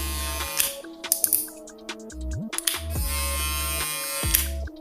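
A VGR V653 electric shaver with a rattling blade runs close by, a loud steady buzzing drone broken by shifting rattles and pitch changes as it is handled, with no talk.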